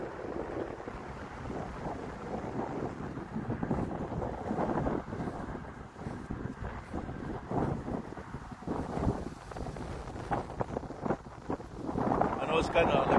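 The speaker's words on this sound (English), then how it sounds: "See how it's windy?" Wind buffets an outdoor microphone on a walk, a rough, uneven rumble that gusts louder and softer across the whole stretch, with no one speaking.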